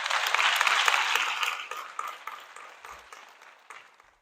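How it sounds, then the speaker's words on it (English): A school-district audience applauds its graduates at a State of the Schools event, a dense wash of many clapping hands that is loud at first and then gradually thins and fades out. "if we can give our graduates a great big round of applause"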